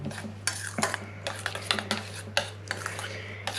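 A spoon repeatedly scraping and clinking against a bowl while stirring a Worcestershire-based barbecue rib marinade, a quick irregular series of close metallic knocks over a low steady hum, no talking.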